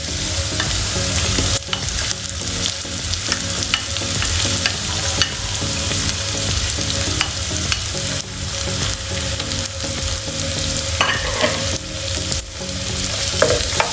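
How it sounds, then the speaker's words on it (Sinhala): Ginger and garlic fry in a hot pan for pork curry, giving a steady close sizzle broken by repeated scraping stirs and clinks of a utensil against the pan. "මම මේක pan එක රත් වෙද්දි ජින්ජර් ටිකක් දාගන්නවා"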